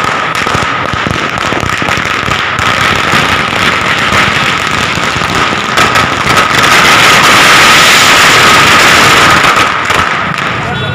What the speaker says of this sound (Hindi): एक ही बार में पटाखे की बौछार